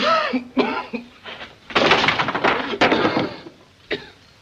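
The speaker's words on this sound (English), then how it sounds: "Suppose you wait till he quits coughing." A voice gives a few harsh, hacking coughs in quick bursts, then several heavier, rougher coughing fits, close and loud.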